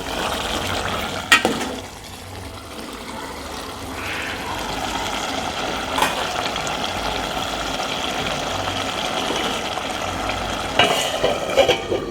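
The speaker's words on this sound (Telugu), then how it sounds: "కూర అయితే ఉడుకుతుంది" Gokarakaya curry simmers and bubbles in a pot, a steady close sizzle and boil with occasional louder stirs or clinks over an even background.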